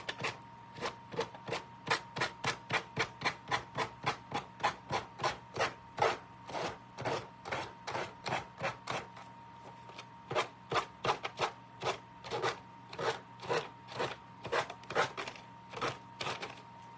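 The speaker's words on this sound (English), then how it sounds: "I'm going to start sanding this off around the edges." Steady back-and-forth rasping of sandpaper on the edges of a wooden sign, fast rhythmic strokes continuing throughout, close and fairly loud, with a brief pause midway.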